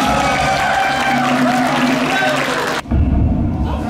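Convention crowd at a trivia game show bursts into loud, sustained applause and cheering from a packed room, dense clapping filling the space before cutting off abruptly near the end, leaving a murmur of voices.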